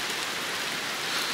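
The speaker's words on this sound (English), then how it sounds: "It's feeling a bit rainy." Steady rain falls at a horse yard on a winter day, a dense, even hiss of drops on surfaces that holds constant throughout without any voices.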